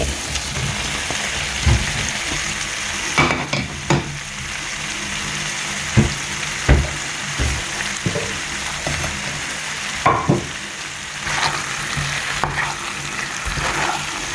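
Continuous crackling sizzle of diced capsicum and onion frying in a pan, with occasional clinks and scrapes of stirring over the steady hiss.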